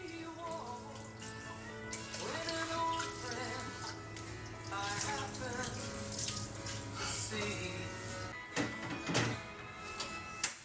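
Food is rinsed under a running kitchen tap, with water splashing and flowing unevenly at close range, overlaid by a steady tonal hum and a few sharp clatters near the end.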